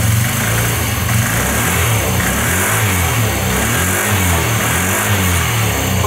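A Honda Giorno scooter engine with a freshly replaced battery runs loud and close, its mid-pitched putter rising and falling as the throttle is opened roughly, without voices.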